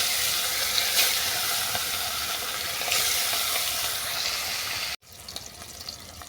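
Rohu fish pieces frying in hot mustard oil, a loud, dense, continuous sizzle close by that cuts off abruptly near the end, with no talking.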